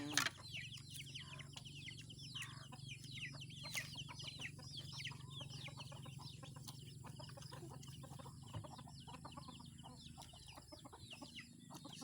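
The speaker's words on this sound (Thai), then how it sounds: "เสียงเป็ดเสียงไก่" Steady clucking from a flock of chickens, with scattered sharper calls over a constant low hum of farmyard background noise.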